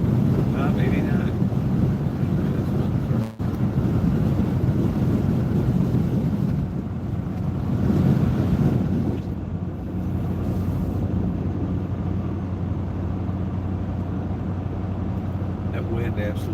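Strong wind buffeting a moving car, a heavy, continuous low roar that swells and eases slightly while driving.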